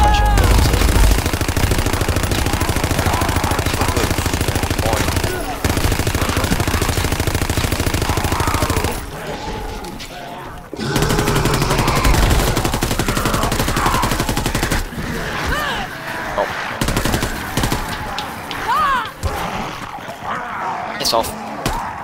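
Rapid automatic bursts from the GDB 79 assault rifle in Call of Duty WWII ring out loud and close over game effects, with a few short pauses between long strings of fire.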